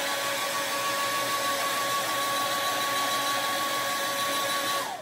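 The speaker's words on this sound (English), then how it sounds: "Let me hit it with my blow dryer first and that way start the process." A blow dryer blasts heat onto a printed flannel fabric, giving a loud, steady whooshing roar with a constant motor whine that runs throughout and cuts off at the very end, with no talking.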